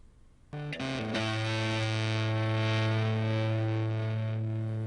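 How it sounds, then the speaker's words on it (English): An electric guitar through a fuzz pedal and guitar amp plays a few quick notes and then a held, heavily distorted chord that sustains loudly and alone to the end, buzzing and thick. "we can hear the fuzz pedal and guitar amp together"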